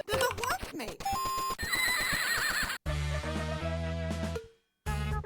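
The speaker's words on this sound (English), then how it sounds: "What sound did the horse make?" A horse neighs from the animal wheel in a video game, a loud whinny among bright, layered game sounds and music-like tones, with a short silent gap near the end.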